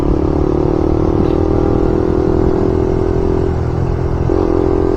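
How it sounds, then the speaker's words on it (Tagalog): A Suzuki GSX-S150 motorcycle on a long ride with a passenger, its engine droning loud and close, with a couple of brief shifts in pitch as it downshifts. "Sarap ng tunog ng downshift, boss."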